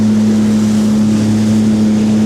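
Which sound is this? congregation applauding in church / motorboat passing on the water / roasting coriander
motorboat passing on the water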